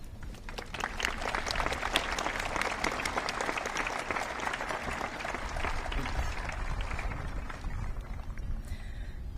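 Sustained applause fills a graduation ceremony for a class of 2020, with many hands clapping in a dense, even roar that holds for several seconds and fades slightly at the end.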